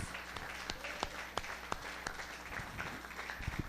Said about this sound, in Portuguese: Uma salva de palmas ao Rei dos Reis, Jesus.